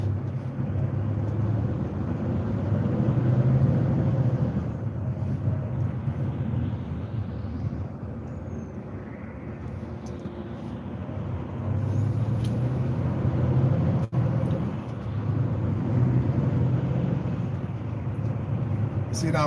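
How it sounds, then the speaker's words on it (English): Rush hour traffic in Manchester heard from inside a car on a major motorway junction, a low continuous rumble of engines and tyres with some louder passing swells. "See, now we're stuck in traffic again."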